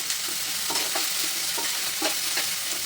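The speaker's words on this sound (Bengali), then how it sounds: "তেল দিয়ে আমি প্রথমে আলুটাকে ছোটো ছোটো করে কেটে রাখা আলুটাকে আমি প্রথমে ভেজে নেবো একটু ভালো করে।" Small diced potatoes frying in hot oil in a wok, a steady close sizzle punctuated by regular spatula scrapes and stirring knocks roughly every half second, with no talking.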